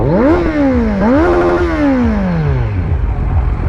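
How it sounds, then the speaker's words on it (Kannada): A Kawasaki Z900 motorcycle passes close by at an auto expo, its loud engine revving up twice with rising pitch and then falling away as it rides off. "ಝಿ ನೈನ್ ಹಂಡ್ರೆಡ್ ಏನು ಸ್ಮೂತಾಗಿ ಬರುತ್ತಲ್ವಾ"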